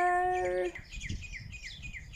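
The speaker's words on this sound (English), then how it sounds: "Where's the bird?" A bird calls from a tree in a repeated, bright chirping phrase that sits close and clear above a low background rumble, right after a tonal melody cuts off.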